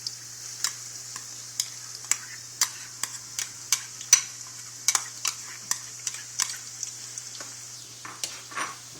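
Ingredients for red curry paste frying in a pan while a utensil stirs them, a steady close sizzle broken by regular scraping clicks and taps of the spoon against the pan, with a faint low hum beneath.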